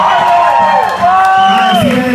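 Concert crowd in Chile cheering and applauding after a cover, a loud continuous roar of voices and whoops with rising shouts throughout.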